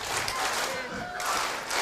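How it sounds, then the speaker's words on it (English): A wrestling crowd at a Most Wanted Night 1 event in Brisbane claps steadily for Brian Cage, a dense, continuous wash of applause and crowd noise with commentary running over it. "this crowd right now clapping for Brian Cage"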